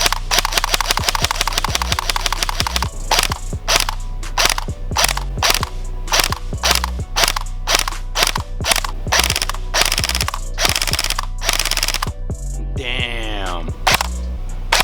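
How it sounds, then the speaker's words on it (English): An Elite Force H&K G36C electric blowback airsoft rifle with a MOSFET firing BBs, rapid mechanical clacking in quick bursts and full-auto strings over a steady low hum, with a brief whirring at the end. "a whole bunch of different clips of me firing the gun"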